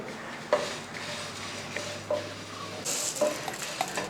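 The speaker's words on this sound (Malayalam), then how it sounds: "ഇതിനകത്തോട്ട് ഒരു ടേബിൾ സ്പൂൺ മല്ലിയും കൂടെ അങ്ങോട്ട് ഇട്ട് കൊടുക്കുക രണ്ടും കൂടെ ഒന്നിച്ച് ഇളക്കി" Dried chillies and coriander seeds being stirred with a spoon in a pan for a mango curry: soft scraping and scattered light clinks, a few sharper taps, with a brief brighter rustle near the end.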